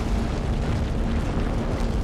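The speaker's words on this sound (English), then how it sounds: "Line gun time." Line gun firing in the sci-fi horror game Dead Space, a dense, roaring blast that holds steady at full loudness for about two seconds with no pause or talk.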